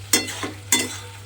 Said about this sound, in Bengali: আর দেব আমি এর মধ্যে একটু ঘি আর গরম মশলাটা দিয়ে খুব ভালোভাবে মিশিয়ে দিতে হবে।